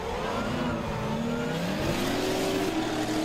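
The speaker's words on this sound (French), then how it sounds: "On jette la voiture une dernière fois de l'autre côté sur le 7." Drift car engine revving hard through a drift run, climbing and sliding in pitch as the throttle is worked, heard at a middle distance with steady background noise and no talking.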